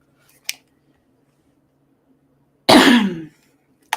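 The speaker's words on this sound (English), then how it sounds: "Always have to clear your throat before reading." A single harsh throat clearing, close and fairly loud, preceded by a short faint click and followed by a brief noise at the end.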